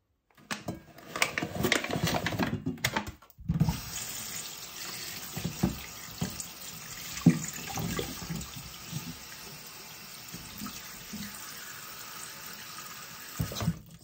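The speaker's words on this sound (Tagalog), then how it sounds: "hinugasan ko lang ito nung mailang beses" Tap water running into a kitchen sink while freshly bought groceries are rinsed, a steady splashing flow broken by handling clatter and brief pauses, close and continuous without speech.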